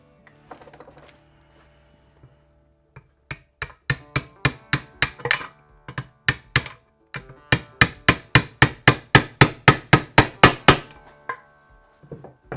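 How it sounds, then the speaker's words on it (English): A punch struck with a hammer taps a split pin into a Classic Mini straight-cut gearbox main shaft assembly, a few scattered taps giving way to a long run of sharp, evenly spaced metallic blows, close and loud. "with a punch and hammer, we can tap that into place"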